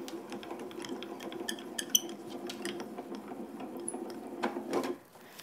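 A hand-cranked die-cutting machine rolls an embossing plate sandwich with cardstock through its rollers, producing a steady close mechanical rumble with small clicks and clatters that stops abruptly near the end, with no voice.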